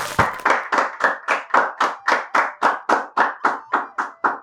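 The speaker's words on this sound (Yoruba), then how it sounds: "ẹ bá mi pàtẹ́wọ́ fún wọn ẹ pàtẹ́wọ́ fún wọn" Synchronized rhythmic clapping from an audience, about fifteen loud, evenly spaced claps in steady tempo, close and crisp with nothing else over them.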